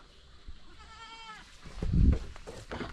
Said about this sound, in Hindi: अभी एक और दिखाता हूँ भाई, ये तगड़ा लगा मुझे, जंगली बकरा।